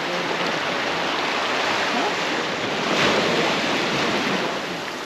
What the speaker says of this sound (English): We are at a beach called Folkestone Beach in St. James.